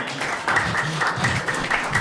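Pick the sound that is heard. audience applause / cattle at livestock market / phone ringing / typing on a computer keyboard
audience applause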